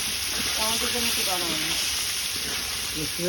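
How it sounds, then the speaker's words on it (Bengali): Potatoes fry in a pan for a rohu fish curry, giving a steady broadband sizzle throughout while a person talks over it. "দেখো কষানো করে ভাজা হচ্ছে।"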